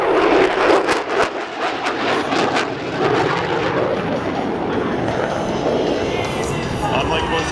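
A US Navy F-35C Lightning II jet at an air show makes a steady, loud roar that fills the whole stretch, with faint crowd murmur underneath.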